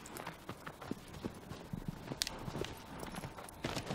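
Rhythmic hoofbeats of a horse in the PS4 remaster of Shadow of the Colossus, a fairly faint, steady clip-clop running the length of the clip.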